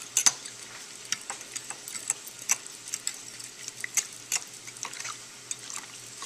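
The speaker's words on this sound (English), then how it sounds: "we mix everything together real good" Beef being stirred into a creamy white sauce, heard as a steady run of close, soft wet clicks and scrapes with a faint sizzle underneath, no voices.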